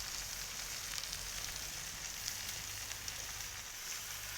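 Blackened shrimp searing on a hot griddle, a steady close hiss and crackle of fat that holds at an even level throughout, with faint tiny pops and no talk.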